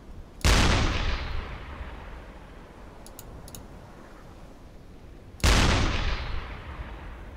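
Two heavy booming shots from a U-boat's gun in the U-Boat video game, five seconds apart, each a loud sharp blast with a long rumbling decay, and faint clicks between them.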